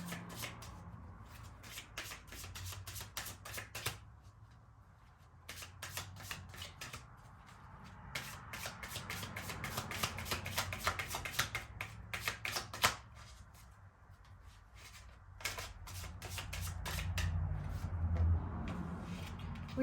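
Oracle archetype cards being shuffled by hand in repeated bursts of rapid riffling flicks, separated by short pauses, close and clear with no voices.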